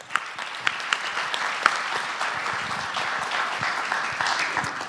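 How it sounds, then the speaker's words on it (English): Gala guests give warm applause for the piano player Todd Wilkie, a dense wash of clapping with a few sharp claps popping out near the start and sustained at an even level. "So let's give Todd a round of applause."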